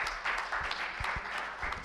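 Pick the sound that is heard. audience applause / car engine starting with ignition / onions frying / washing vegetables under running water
audience applause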